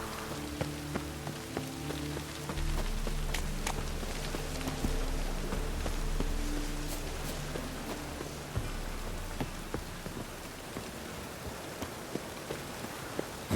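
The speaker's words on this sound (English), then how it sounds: "Looks like rain." Steady rain falls in The Witcher 3: Wild Hunt on PC, a continuous wash of drops on surfaces with a low rumble underneath and occasional faint footstep-like taps, with no talking.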